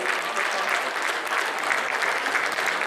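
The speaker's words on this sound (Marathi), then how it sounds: "कृपया टाळ्या यांच्यासाठी होऊन जाऊ द्या." An audience at a cultural stage program for Maharashtra Day applauds, a dense, steady burst of many hands clapping throughout, loud and close.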